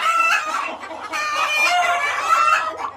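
Kadaknath chickens cluck and call in a dense, overlapping chorus, loud and close, with no voices present.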